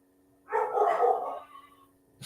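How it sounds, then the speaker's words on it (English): A single dog lets out a short, mid-pitched bark-whine, close and fairly quiet, under a steady low hum, with a faint sound starting at the very end. "My dogs are going crazy."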